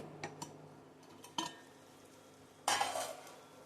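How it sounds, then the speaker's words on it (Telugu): Green chicken liver fry cooking in a pan, a faint low sizzle punctuated by a few sharp scrapes and clinks of stirring, with one louder burst of scraping near the end, no speech. "ఉడుకుతూ ఉంది అలా కలుపుకుందామండి"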